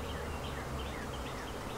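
Honey bees buzz inside a beehive on a farm in March, a dense, steady low drone that stays faint and even throughout the brief moment.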